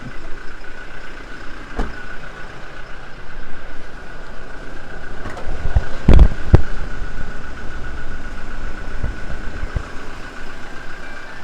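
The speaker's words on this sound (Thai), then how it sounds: "สตาร์ทให้ฟังเสียงเครื่องนะครับ เครื่องยนต์เดินเรียบนะครับ" A 2018 Toyota Revo 2.4 pickup truck engine idles steadily with a constant low rumble and a faint hum, broken by a few brief clicks and knocks near the middle.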